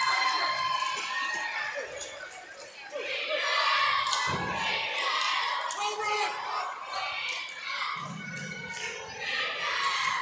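Crowd noise fills a high school basketball gym, a dense steady roar of voices and shouting with occasional ball thuds and swelling cheers, continuous throughout.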